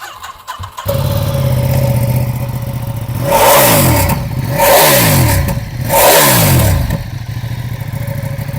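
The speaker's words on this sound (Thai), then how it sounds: "ฟังเสียงเครื่องยนต์กันหน่อย" A 2020 Ducati Diavel 1260S motorcycle engine starts and idles, then revs loudly three times in a row, each rise and fall distinct, before settling back to idle.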